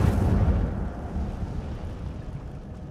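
A fire spell cast in the Hogwarts Legacy video game bursts out as a loud, low rumbling blast that fades into a sustained crackling roar over about three seconds, with no voices.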